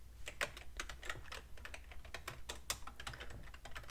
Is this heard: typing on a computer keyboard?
yes